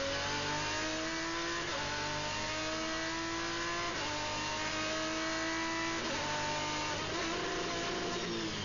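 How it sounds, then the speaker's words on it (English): A V10 GT race car's engine screams continuously at high revs on a circuit at Zolder, pitch climbing and dropping through gear changes, loud and close as if heard from onboard. "Listen to the much more waffly exhaust note of the V10."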